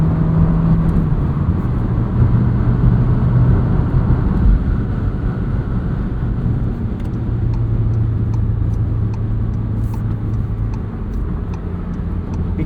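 A 2023 Volkswagen Jetta Sport with a 6-speed manual gearbox driven on the road: a loud, steady cabin drone of engine and road noise that holds evenly throughout, with faint light clicks near the end.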